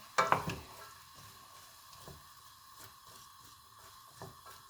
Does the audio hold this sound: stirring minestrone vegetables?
yes